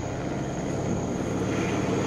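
Light aircraft engine revving up steadily during a pre-takeoff power check at Manchester International, a continuous loud propeller drone holding near for the whole stretch.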